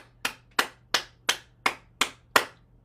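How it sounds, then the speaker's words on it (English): Seven sharp hand claps at an even pace during a qigong exercise session, close and distinct with brief quiet gaps between them and a faint low hum underneath. "And then we're going to clap our hands"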